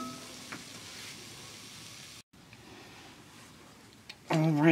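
Onions and peppers for a vegan ghost pepper chili cook in a pan with a steady, soft sizzle and a brief break midway, then a voice cuts in near the end.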